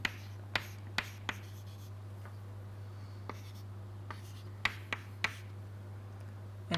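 Handwriting of equations on a board or paper, a series of sharp, separate taps and strokes at irregular intervals against a steady low hum, with no voice.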